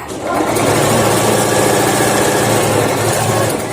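An electric sewing machine stitches a baby cap, giving a continuous, loud motor whir with a rapid mechanical rattle that holds steady throughout.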